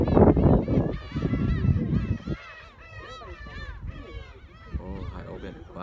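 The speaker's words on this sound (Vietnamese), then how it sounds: "Ô, hải âu biển quá trời luôn." Seagulls calling over the sea on a weekend morning, many overlapping squawks and cries close and far, loud at first with a rumbling background that fades, leaving scattered calls.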